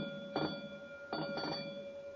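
A radio drama sound effect of a fire alarm bell rings in two bursts of clanging with a steady tone underneath, fairly faint and alone with no talk.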